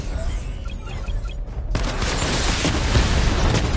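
Missile barrage firing in a Batman video game, a sudden loud burst of rapid overlapping blasts that kicks in partway through and roars on to the end, after a quieter stretch with faint whirring.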